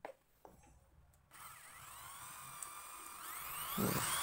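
A Bitec IDM 1300 13mm electric drill spins up after a few clicks and handling noises, holding a steady whining hum that rises slightly toward the end.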